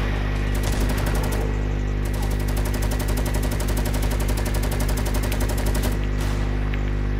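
Rapid automatic gunfire from the video game Fortnite, a loud continuous rattle of repeated shots with short pauses, running steadily across the whole stretch with no talk over it.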